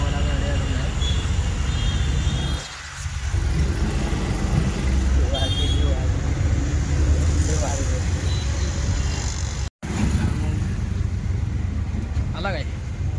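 A road vehicle's engine drones steadily near a roadside with continuous traffic rumble throughout, and people talk over the noise.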